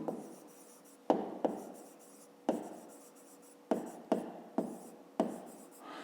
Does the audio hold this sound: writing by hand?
yes